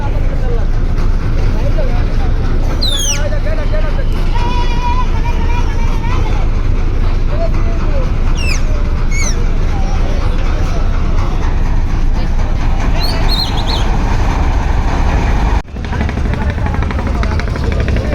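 Passenger launches, including the Sundarban 16, pull away from Barisal with a loud, steady engine roar. Repeated horn blasts sound over the engines and crowd babble, with nearby voices talking throughout.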